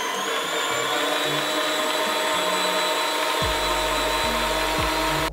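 Electric hand mixer whipping lemon ganache for Italian-style macarons, a loud, steady high whir that runs unbroken, with low knocks and rumbles as the beaters work through the cream.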